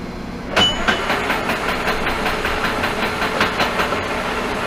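A metal lathe turning at 314 RPM with a high-speed steel parting blade, working on a hammer build, starts up abruptly into a loud, steady mechanical whir with a faint rhythmic pulsing and no talk.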